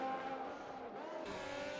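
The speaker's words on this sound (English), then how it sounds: "they are both coming into the pits." Race cars in the F1 2021 game enter the pits at the Austrian Grand Prix, a faint, steady engine whine with a slight pitch shift as they pass, heard alone.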